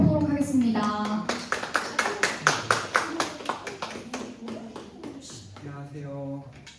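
A small lecture audience welcomes a guest lecturer with a run of distinct, rhythmic hand claps that gradually thin out and fade, with a voice speaking at the start and end.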